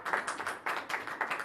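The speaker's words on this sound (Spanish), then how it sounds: "un aplauso para déselo fuerte" Church congregation clapping during a Sunday sermon, a steady patter of many hands at moderate distance with rhythmic surges, no voices over it.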